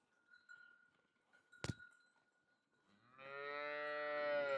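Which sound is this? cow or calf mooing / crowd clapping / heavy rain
cow or calf mooing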